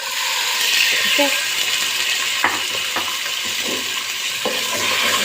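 Chicken pieces frying in about two tablespoons of hot oil in a pan: a steady, loud sizzling hiss with scattered clicks and scraping, as if stirred.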